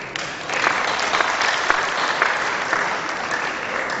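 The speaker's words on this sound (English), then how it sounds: "I'm waiting for the clap." An audience claps steadily through a speech at an Ekiti State International Students' Day celebration, a dense, even wash of hand claps lasting about four seconds with no talking over it.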